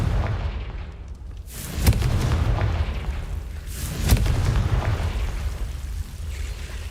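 Confringo fire spell from the Hogwarts Legacy video game, with two loud booming blasts about two seconds apart over a steady rumbling game soundscape.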